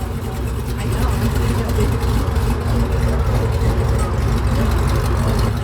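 An LS3 V8 swapped into a modified off-road vehicle idles with a deep, steady rumble, loud and close, while people talk over it.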